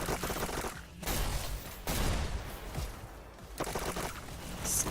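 Rapid bursts of SMG gunfire crackle through a competitive VR esports shooter match, several dense volleys separated by brief pauses, loud and close.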